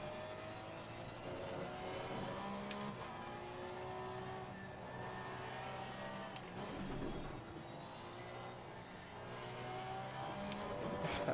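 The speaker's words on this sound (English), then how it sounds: "Stop drifting the Porsche." A Porsche race car drifting in a racing game: steady engine drone with shifting revs and gear changes, faint and continuous, with brief scrapes and clunks as the car slides.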